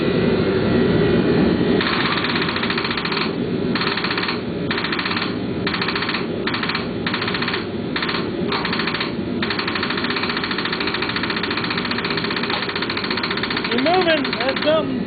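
A Cub Cadet garden tractor engine cranks on a 12-volt boost from a half-dead battery, a rapid rhythmic chugging in pulses over a running engine-like drone, with a voice talking over it.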